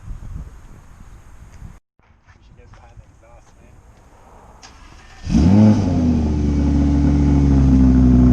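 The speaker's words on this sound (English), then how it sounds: "that's a perfect cold start right there" An Audi R8 cold-starts after a quiet stretch with faint voices. The engine catches with a sudden loud flare and rev, then settles into a steady, strong idle.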